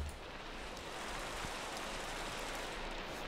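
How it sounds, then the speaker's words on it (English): Steady rain falling in the Minecraft FTB Interactions modpack, a continuous even hiss of raindrops filling the scene at low volume with no voices. "Of course it's raining."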